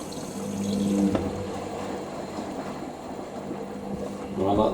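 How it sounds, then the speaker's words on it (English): A Hoover SIX AAA Whisper 1600 washing machine on a mixed fabrics 60°C cycle fills with water for its second rinse, a steady gushing inflow with a low mechanical hum and faint clunks close by. "Filling for second rinse."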